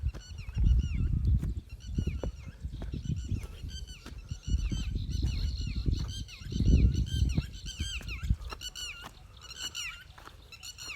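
Repeated high chirping bird calls over a low rumbling background, with scattered taps and brief bursts, fairly close and continuing throughout.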